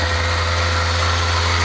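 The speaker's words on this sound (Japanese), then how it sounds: "ちょっとまだエンジン冷えてるんでね" A Kawasaki ZX-25R motorcycle idles while still cold, a steady, even engine drone with a low hum, close and continuous throughout with no voices.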